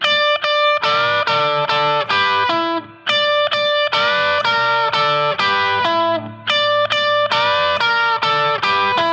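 Loud electric guitar with distortion plays repeated phrases of bent notes sliding up in pitch and paired double-stop notes, in a rhythmic pattern that repeats.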